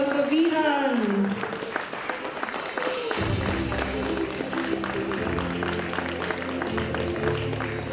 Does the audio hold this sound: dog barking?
no